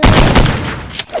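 Loud gunfire in a video game: a quick cluster of sharp shots in the first half-second, then a softer trailing burst and a fainter shot near the end.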